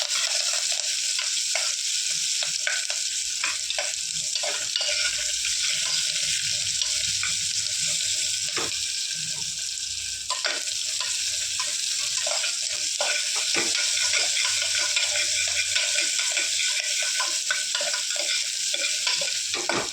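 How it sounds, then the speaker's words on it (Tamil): Chopped onion and green chilli sautéing in a pan for a millet upma, a continuous soft sizzle with scattered clicks and scrapes of stirring, close and alone without talk. "ஒரே ஒரு வெங்காயமும் பச்சை மிளகாவும் எடுத்து வச்சுக்கிறேன், நறுக்கி வச்சுருக்கேன். அதையும் போட்டு கொஞ்சம் வதக்கிக்கிறேன்."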